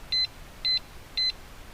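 A Stockton alarm disc lock fitted to a 2019 Honda CB500X motorcycle gives three short, evenly spaced high-pitched beeps as it arms, close and clear over faint background noise.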